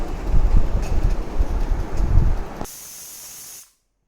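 Pressure cooker cooking raw banana with a little water and salt lets out a loud, steady whistling hiss of escaping steam for about two and a half seconds, then a softer high hiss before it cuts off abruptly.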